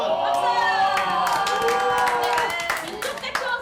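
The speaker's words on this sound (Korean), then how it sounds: "박수!" Audience at a young Buddhist camp breaks into steady clapping with scattered cheers and voices mixed in, lively and close, after a long session of ritual bows.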